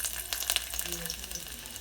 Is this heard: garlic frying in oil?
yes